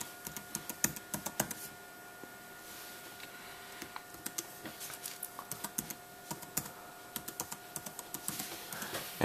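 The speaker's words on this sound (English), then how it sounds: "type in your full name and then go to the email address and type it in" Keys clatter on a computer keyboard as a name and email address are typed in, a quiet irregular run of close, crisp clicks in bursts with short pauses, no talk.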